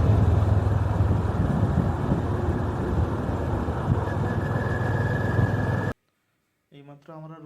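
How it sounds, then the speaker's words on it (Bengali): A vehicle engine droning steadily while driving downhill under engine braking on a mountain road in North Sikkim, loud and continuous for about six seconds before cutting to silence, then a brief voice. "একটু ইঞ্জিন ব্রেকের উপরে ভরসা করে চালাতে হচ্ছে আর কি।"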